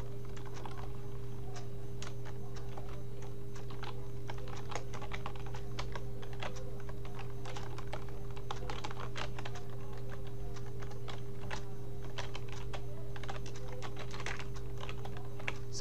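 Someone types steadily on a computer keyboard, with a continuous run of quick, close key clicks over a low electrical hum. No one speaks.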